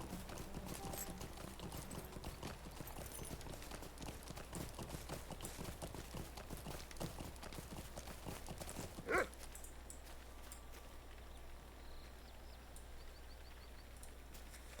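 Steady clip-clop of horse hooves while riding in the online game Lord of the Rings Online, a continuous rhythmic trot over ambient game sound, with one sharp click near the end.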